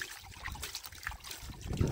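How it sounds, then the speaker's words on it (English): Water splashed around in a gold pan bowl while processing black sand, a short close sequence of irregular sloshes and trickles that builds to a louder splash at the end. "And then we'll kind of splash it around,"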